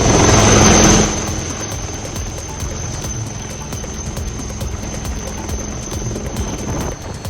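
A helicopter ferrying injured people to the Baltal base camp drones loudly and steadily throughout, with a whining high tone and a louder surge at the start.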